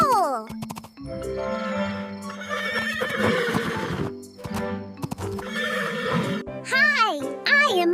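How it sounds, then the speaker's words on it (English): A foal neighing in a children's farm-animal learning segment, a high whinny rising and falling over a musical backing, with a voice speaking between the calls. "Hello, I am a foal."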